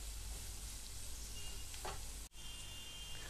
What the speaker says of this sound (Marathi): छान परतलं गेलं पाहिजे हे.